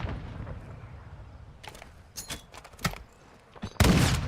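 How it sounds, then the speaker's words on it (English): Sniper rifle fire in a competitive online shooter match, a few sharp cracks spaced out over a few seconds, the last one loudest and longest, with no talk over them. "Dinah getting some good shots with that sniper"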